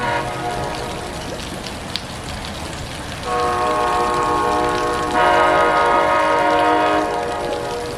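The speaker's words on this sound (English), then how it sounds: "my train is finally coming" An Amtrak train rumbles in steadily over rain, then its horn sounds in two long blasts, the second louder and nearer.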